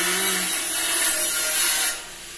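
Rasping, grinding construction noise from hardiplex double walling being installed in a bedroom, a continuous harsh scraping that stops abruptly near the end.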